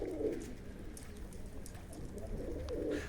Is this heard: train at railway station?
no